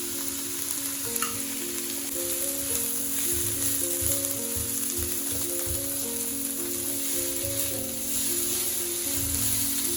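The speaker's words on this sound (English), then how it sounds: "Then you can add in curry leaves." Curry leaves hiss and crackle in hot oil while being stirred for prawn curry, a loud continuous frying sizzle with scraping stirs, over soft background music and no talking.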